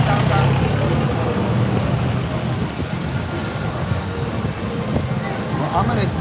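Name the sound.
rain and wind outdoors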